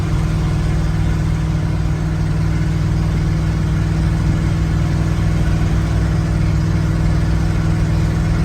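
A 1971 GMC Jimmy engine runs with open headers and no exhaust, giving a loud, steady, rumbling idle that holds without a break for the whole stretch.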